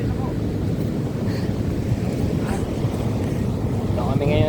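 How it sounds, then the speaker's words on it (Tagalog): Strong sea waves surge against the shore, a loud, rough rumbling roar with wind buffeting the microphone and people talking over it. "Malakas ng alon."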